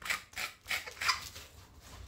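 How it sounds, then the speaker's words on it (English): A squeaky salt grinder twisted over mashed potatoes, giving three or four quiet, rhythmic scratchy grinding bursts up close with no talking. "some salt to taste, obviously, with a squeaky grinder."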